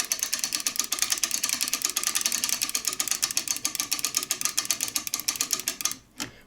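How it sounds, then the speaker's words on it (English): Mainspring of a vintage Ansonia steel kitchen clock being wound with a winder: a steady run of rapid, even ratcheting clicks, close and crisp, continuing for about six seconds before stopping abruptly. "Now we'll wind it up."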